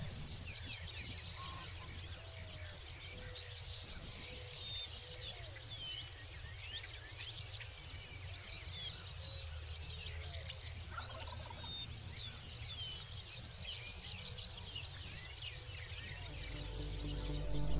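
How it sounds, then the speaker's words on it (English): A farm field recording with a chorus of birds calling steadily throughout, a ringneck pheasant among other species in the background, the calls soft to moderate over a constant low rumble of wind. "Occasionally we hear a ringneck pheasant, and a diversity of other species in the background."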